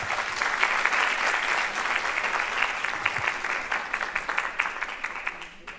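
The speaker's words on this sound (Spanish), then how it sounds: "Recibámoslos con un fuerte aplauso" An audience at a lecture claps steadily, a dense patter of applause that thins out slightly toward the end.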